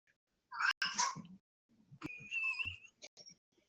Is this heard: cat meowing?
yes